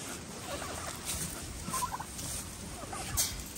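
Turkeys gobble in bursts while being fed, over a noisy outdoor background, several calls overlapping at moderate distance.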